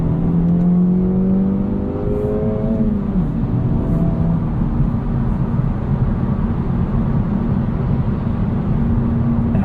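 Inside a 2024 Acura Integra Type S on Michelin PS4S tires, a steady loud cabin drone of road and tire roar with engine hum that rises and shifts in pitch early on, continuous with no talking.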